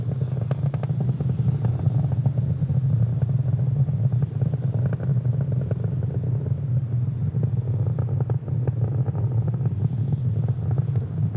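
A SpaceX Falcon 9 rocket's engines during ascent, heard as a continuous loud, dense roar and rumble with wind-buffeting noise, steady throughout without pauses.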